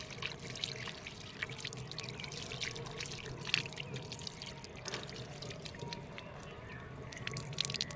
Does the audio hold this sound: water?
yes